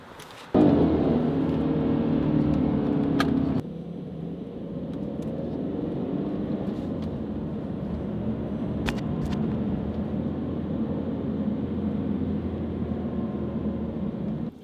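Rumbling engine noise comes from inside a car driving along Rodeo Drive in Los Angeles. A louder stretch at the start drops to a steadier, quieter drone as the car pulls up, with a few faint clicks and no talking.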